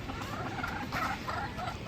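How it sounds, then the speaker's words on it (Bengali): A flock of some forty to fifty chickens gathers, their soft clucks and calls blending into a steady, close, noisy wash without clear breaks. "ওই যে আরো মুরগি আইতেছে"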